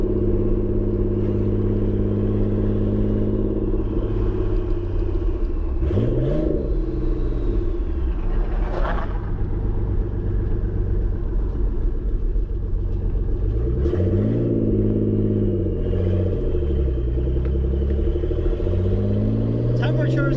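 A Nissan 300ZX Z32 with a turbocharged engine drives along with a constant low rumble, rising in pitch several times as it accelerates and comes onto boost, while a person talks in the car.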